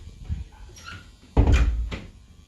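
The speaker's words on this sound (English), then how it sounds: "Now let me close the door." A door swings shut with one solid thunk close by, following a softer knock, over a steady low background hum.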